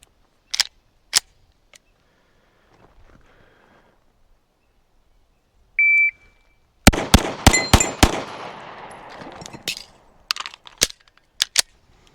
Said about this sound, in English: I'm gonna shoot 5, reload, shoot 5.